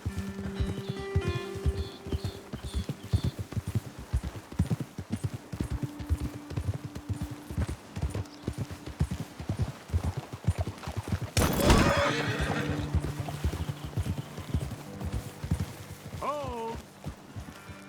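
Horses in Red Dead Redemption 2 clip-clop in a steady, close hoof rhythm, with loud neighs and whinnies breaking in, one sharp burst partway through, while characters talk over the hoofbeats.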